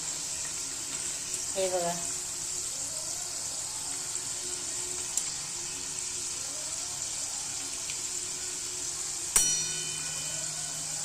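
Khari frying in a pan with small bubbles beginning to form, a soft steady sizzle with faint bubbling and an occasional metallic clink, under a voice speaking.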